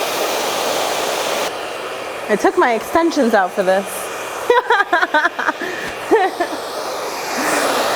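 A hair dryer blows with a steady, loud whoosh throughout while someone talks over it.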